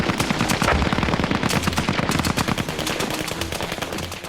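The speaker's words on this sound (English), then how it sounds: "With the convoy halted, the SAS fired on the escorting troops." Loud, sustained machine gun fire from soldiers shooting at troops escorting a halted convoy, with rapid dense bursts of shots running continuously throughout.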